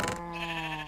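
Sheep bleat from the Minecraft video game, a single wavering bleat rising loud at the start and holding for under a second, close and clear with no talk over it.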